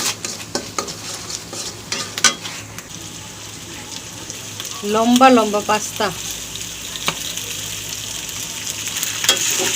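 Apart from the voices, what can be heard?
pasta with fried eggs being stir-fried and mixed in a pan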